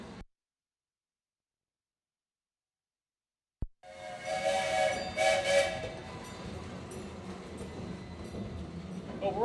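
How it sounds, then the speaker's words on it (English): After a stretch of silence and a sharp click, an amusement park train ride at Cedar Point rolls along with a rumbling clatter and a whistle sounding over it. "we're getting on the train over here"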